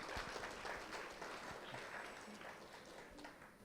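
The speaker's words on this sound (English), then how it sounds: "A big round of applause for wherever he is." Audience applause at a memorial oration for the founder president of a health foundation, a steady dense wash of clapping from a crowd, held at a fairly even level throughout.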